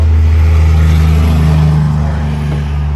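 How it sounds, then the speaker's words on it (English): Road traffic passes close by, a loud low engine drone with tonal rumble swelling and easing over a few seconds as a vehicle goes past. "I can't hear myself talk when traffic comes by"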